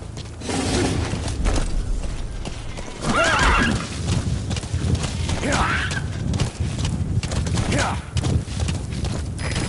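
Horse in Metal Gear Solid V whinnies three times at spaced intervals over a steady clip-clop of hooves, loud and close, with game voices speaking in the background.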